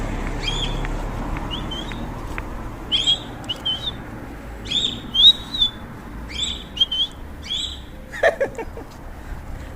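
Birds chirp and whistle in short bright bursts and trills, repeated irregularly over a steady outdoor hush near a hillside with grape vines, fairly close and clear with no talking.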